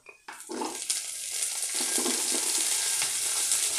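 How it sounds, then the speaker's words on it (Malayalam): Raisins fry in a pan with a steady sizzle that starts after a short quiet moment and builds into continuous crackling hiss, with a few light stirring scrapes. "കിസ്മിസ് വീർത്ത് വരുന്നത് വരെ ഇളക്കി കൊടുക്കുക"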